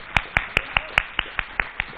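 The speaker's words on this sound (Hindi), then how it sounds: "जोरदार तालियों से स्वागत" Sharp, evenly spaced claps about five per second ring out at a political stage event as guests are welcomed, around ten crisp hits in a steady rhythm.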